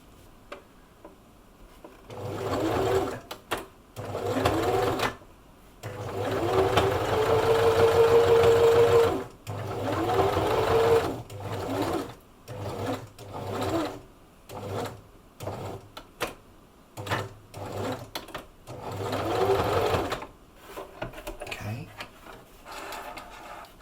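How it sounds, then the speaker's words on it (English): A sewing machine stitches along the edge of a fabric storage box in repeated whirring bursts of a few seconds each, separated by short pauses, close and fairly loud. "we're going to stitch just along that edge to hold all of that together"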